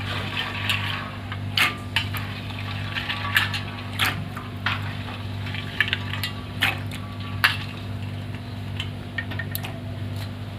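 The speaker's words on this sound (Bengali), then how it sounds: "ভিজিয়ে রাখা ছোলাটা দিয়ে দেবো।" Soaked chickpeas frying in a pan with salt for a simple chickpea bhuna: a quiet, steady sizzle runs throughout, punctuated by light ticking scrapes of a spoon stirring every second or so, over a low electrical hum.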